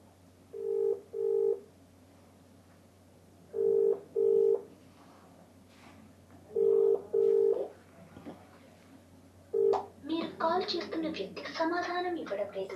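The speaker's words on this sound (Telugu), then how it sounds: "ఫోన్ రింగ్ అవుతుంది" Ringback tone of an outgoing phone call to an engineering college principal: paired electronic beeps repeat four times at steady intervals, fairly quiet over a low hum, before a voice starts talking at the end.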